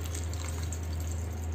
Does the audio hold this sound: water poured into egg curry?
yes